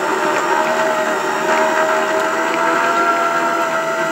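A stand mixer fitted with a paddle beats butter and icing sugar at low speed, giving a steady, close, continuous motor whir with a faint mechanical whine that never lets up.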